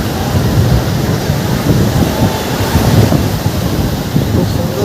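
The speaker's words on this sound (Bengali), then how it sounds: "খুব সুন্দর জায়গা, উত্তাল সমুদ্র আছে।" Rough, choppy sea waves surging onto Swargadwar beach in Puri, a continuous loud roar of surf mixed with heavy wind buffeting the microphone, no talk.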